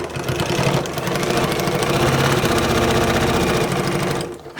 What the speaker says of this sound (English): now we're ready to sew. We're gonna sew straight down this line.